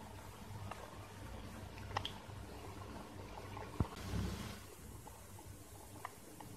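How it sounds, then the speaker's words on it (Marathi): Cabbage bhaji (patta gobi pakoda) sizzles in hot oil as it fries until crisp, a faint, steady hiss with small scattered crackles and pops and no talking. "दोन्ही साईडने व्यवस्थित तळून घ्यायची आहे भजी, छान खरपूस झाली पाहिजे।"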